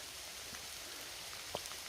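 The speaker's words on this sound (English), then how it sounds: "It's raining all over" Steady rain falls over a muddy dirt road on a gray day during a thunderstorm, a soft continuous hiss with a few distinct drop taps standing out near the end.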